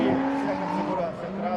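A Nissan Skyline drift car accelerates on a track, its engine note rising in a sustained tonal whine under a commentator speaking Russian.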